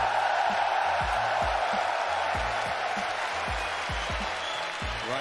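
A large esports arena crowd at the CS:GO FACEIT Major final in London roars continuously in a dense, loud wash of cheering and applause, with a low rhythmic thumping running beneath it.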